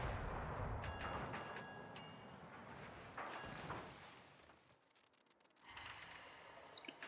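Heavy naval gun volleys boom from warships during a video game battle, a dense rumbling blast with overlapping reports and rolling echoes that fade before another loud burst near the end.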